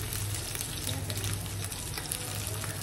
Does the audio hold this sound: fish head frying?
yes